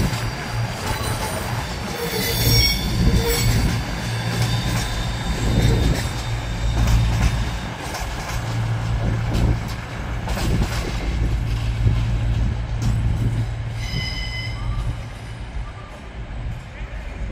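A nine-carriage Class 220 diesel train moves through Sheffield station with a deep engine rumble, rolling wheel noise and occasional squeals, loud and sustained throughout while people talk over it.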